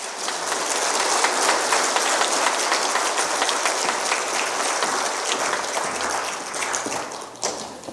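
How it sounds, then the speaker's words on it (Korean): Loud, continuous clapping from a church congregation at a Wednesday service, welcoming a guest evangelist, steady throughout and tapering slightly near the end. "우리 박수로 맞이하겠습니다."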